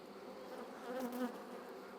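A honey bee colony hums inside an open hive during cell builder preparation, a dense buzzing drone that swells louder midway before easing back, steady and close with no voices.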